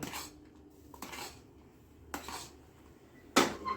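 Gram flour batter being beaten in a metal bowl in a home kitchen: sharp clinks and scrapes of utensil on bowl come in scattered bursts, with one loud knock near the end and quieter stirring between.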